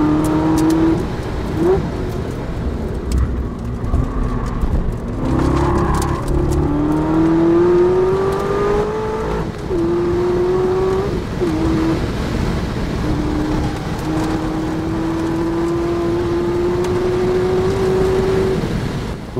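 A 2012 Chevrolet Corvette ZR1 lapping the Nürburgring circuit, its loud engine note climbing through repeated upshifts, each gear pulling higher before dropping back, sounding close and continuous for nearly twenty seconds.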